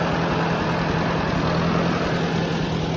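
A Massey Ferguson tractor engine idles in a steady, low, even rumble, close by and continuous, with no talk.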